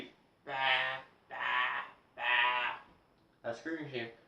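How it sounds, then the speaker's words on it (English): Bleating sheep sound effect: three long, loud, evenly spaced bleats, close and alone, followed by a shorter, wavering bleat at the end. "A sheep."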